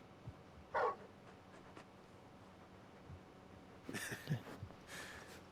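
Faint, brief dog vocalizations from Torgal, a large wolf-like hound in Final Fantasy XVI: one short yelp followed later by a few soft whimpering whines over a quiet background.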